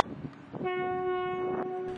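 At night on a Wexford town quay, an Irish Rail 29000 class train sounds a steady, loud horn tone that begins partway through and holds to the end over low rumble.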